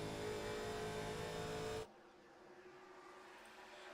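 Stock car engines in a 1987-season racing video game at Charlotte, a loud dense roar for nearly two seconds that cuts off abruptly to a much quieter, thinner engine drone.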